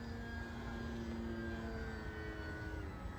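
A Dynam Waco RC biplane reinforced with carbon fiber flies past with a steady, faint buzzing propeller drone that holds evenly throughout, distant and without talk.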